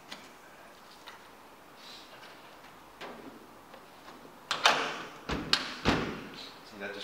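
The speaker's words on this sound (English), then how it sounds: "See, that just closes, bang." The trunk lid of a Porsche 911 SC is handled and shut, giving a few faint taps followed by a cluster of loud, sharp thuds and a solid closing bang near the end.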